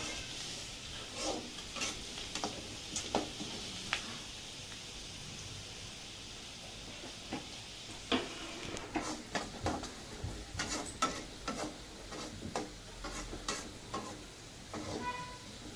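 Onions sautéing in a pan, a soft steady sizzle under repeated scraping stirs and spoon taps that come in scattered bursts, busier toward the end, fairly quiet and close.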